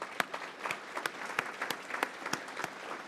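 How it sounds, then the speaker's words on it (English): Applause for scholarship recipients at a Memorial Day breakfast: a small crowd claps with scattered distinct hand claps, moderately close and steady throughout. "give a round of applause to all of our scholarship recipients for this year"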